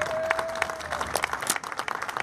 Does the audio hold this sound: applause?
yes